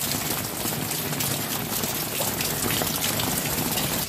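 Rainwater falls about 35 feet into a 60-foot-deep cement-ringed well, a loud, unbroken rushing gush with a rain-like hiss throughout.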